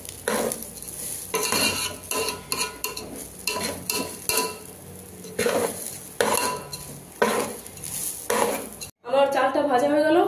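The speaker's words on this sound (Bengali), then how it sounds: "এখন এই চালটাকে আমাকে 4 মিনিট ভাজতে হবে ভালো করে।" Rice fried with whole garam masala in a pot, sizzling under repeated metal stirring and clanking strokes at close range. Near the end the cooking sound cuts out and someone speaks.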